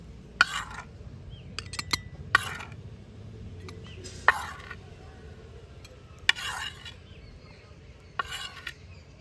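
A spoon clinks against a small sindoor container as homemade sindoor powder is filled into it, a handful of light, spaced taps over a faint low background hum.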